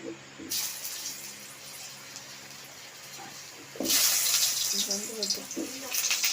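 Potatoes go into a wok with a little hot oil, giving a hissing sizzle that suddenly grows loud and stays steady and close.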